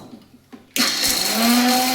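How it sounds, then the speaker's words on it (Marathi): A kitchen mixer grinder whirs to life, grinding peanuts and green chillies for amti; after a few faint knocks it starts abruptly into a loud, steady motor whine with a rising tonal hum, running close and unbroken. "मिक्सरमध्ये छान गरा फिरवून घ्यायचं."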